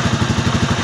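A motorcycle engine idles steadily after carburetor tuning, a close, even, rhythmic putter with a slight clatter and no talk over it.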